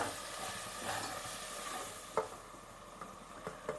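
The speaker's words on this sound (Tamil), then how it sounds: "அதை வதக்கலாம்." Tomato sautéing in a pan while cooking chicken biryani, a steady soft sizzle with a faint spoon-stirring texture and a few sharp clinks of utensil on metal toward the end, with no talking.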